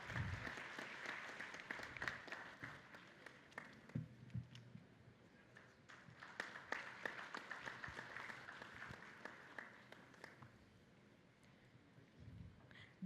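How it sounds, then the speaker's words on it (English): Audience applause at a technical session of a GCC summit conference, a sustained crowd clapping with dense uneven claps that swell and fade over several seconds, with no speech over it. "Let's give them a big round of applause."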